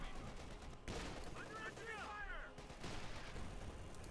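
Heavy .50 caliber machine gun fire in Company of Heroes 2, suppressing a Sturmpanzer during an online match, heard as dense continuous battle noise with bursts of gunfire and other clatter throughout.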